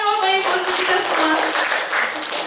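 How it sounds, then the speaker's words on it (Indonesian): Applause from an audience of parents and teachers at a positive school culture workshop, clapping mixed with a speaker's voice and a musical tone ringing over it before the clapping carries on briefly. "Tepuk tangan Bapak Ibu untuk kita semua."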